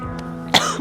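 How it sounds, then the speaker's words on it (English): A single short, close cough with throat clearing breaks through a steady low hum in a quiet room. "let me cough it out."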